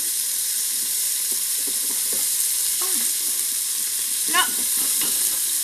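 Meatballs fry in a pan with a constant close sizzle and hiss as they are turned over, with a few scraping clicks from the utensil and a brief spoken word.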